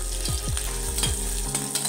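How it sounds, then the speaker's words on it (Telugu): Onion frying in hot oil with cumin seeds, a close, continuous sizzle with light crackles and a few scraping stirs of a spoon in the pan, heard alone without talk. "ఉల్లిపాయ కూడా ఫ్రై చేసుకుందాం."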